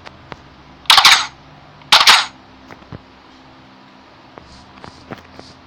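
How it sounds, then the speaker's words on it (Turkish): In Minecraft, a bow fires bullets instead of arrows, giving two loud, sharp gunshot bursts about a second apart, followed by faint clicks and small game noises. "Yaydan ok yerine mermi çıkmış."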